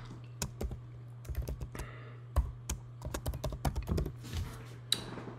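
Computer keyboard typing a name into a server BIOS policy form, with irregular bursts of crisp key clicks and taps over a low steady hum, close and fairly quiet, with no talk.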